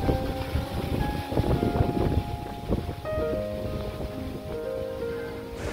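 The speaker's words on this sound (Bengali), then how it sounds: "প্রচণ্ড বেগে ঝোড়ো হাওয়া বইছে।" Strong, gusty storm wind buffets the open lake at Rabindra Sarobar before a cyclone, roaring close against the microphone in uneven surges, with faint bird calls threaded through the noise.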